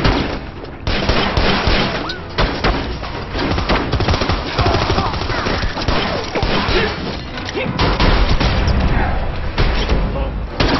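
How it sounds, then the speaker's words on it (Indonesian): Sustained gunfire from a Korean War film battle at a North Korean defense office: dense bursts of automatic fire and shots crackling loudly over the whole stretch, with crashes and thuds mixed in. "Mereka ketahuan oleh Letnan Ryu dan seketika baku tembak di kantor pertahanan Korut pun tidak terhindarkan."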